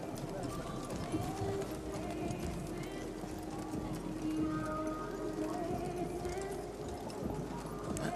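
Hooves of four horses in a four-in-hand carriage dressage driving event clop steadily across an arena, a continuous background patter under a commentator's talk.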